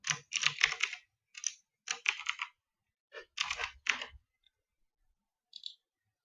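Keys on a computer keyboard clatter as a password is entered, close and crisp, in several quick bursts of taps separated by short pauses, then a lone final keystroke, with no voices.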